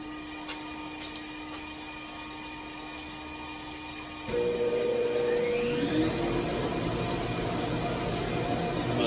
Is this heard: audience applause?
no